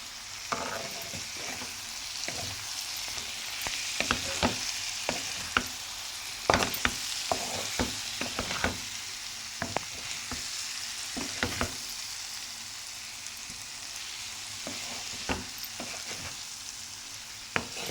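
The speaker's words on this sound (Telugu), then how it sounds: "ఇప్పుడు మనం ఒకసారి మళ్ళీ కలిపేసుకుందాం." Egg and capsicum sizzle steadily in a pan while a spatula stirs them, with sharp scraping strokes over the constant close frying hiss.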